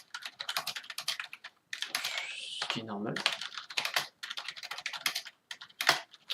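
Rapid clicking keystrokes on a Rii RK900 gaming keyboard, a quieter non-mechanical board, come in dense bursts across the whole stretch, broken by brief pauses, with someone speaking over part of it.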